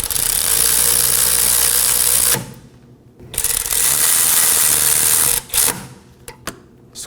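Power tool snugging down slider pin bolts on a rear brake caliper of a 2015-2023 Nissan Maxima, a loud continuous whirring buzz for about two seconds, then a pause and another long burst followed by short clicking bursts.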